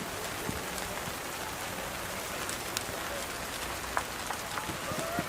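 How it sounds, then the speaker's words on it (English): Steady rain falls on an outdoor lawn bowls green at an under-25 national championship, a dense, even hiss with a few scattered drop ticks throughout, fairly constant in loudness. "The rain is getting heavier"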